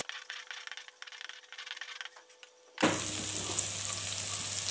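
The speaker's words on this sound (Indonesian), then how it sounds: "kemudian ya cabenya kita tumis sebentar" Chillies hit a hot pan and burst into a loud, even sizzle that holds to the end, following a stretch of quieter kitchen clatter and scraping.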